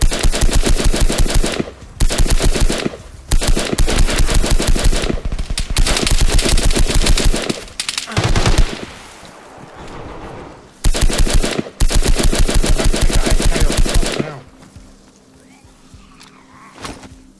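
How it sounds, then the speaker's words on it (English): Loud, rapid automatic gunfire from the survival video game DayZ, several long bursts of dense shots broken by brief pauses, ending in a quieter stretch of ambient noise. "There's still someone shooting from east."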